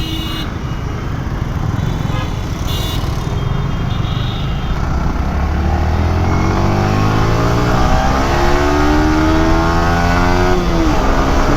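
A commuter-style motorcycle of an Indonesian variant, ridden on a city road in Dhaka, gives a loud, close engine drone that climbs in pitch as it accelerates, under constant wind rush.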